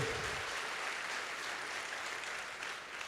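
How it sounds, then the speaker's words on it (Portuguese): A church congregation applauds during a Holy Communion service sermon, a dense, steady wash of many hands clapping that fills the whole stretch and fades slightly toward the end. "Você pode aplaudir ao Senhor?"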